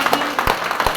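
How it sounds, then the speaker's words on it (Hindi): An audience claps for Mr Kameshwar at a gathering, a brief burst of loud, close hand claps in an uneven rhythm over about a second. "हमारा great apply mister Kameshwar sir के लिए जोरदार ताली"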